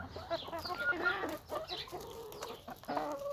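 A young rooster and hens cluck nearby in quick, overlapping bursts of short throaty calls, steady throughout at moderate loudness with some farmyard background.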